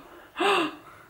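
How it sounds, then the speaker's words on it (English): A single sharp, breathy gasp from a person, loud and close, rising suddenly and fading within about a third of a second, with quiet room tone on either side. "Gasp."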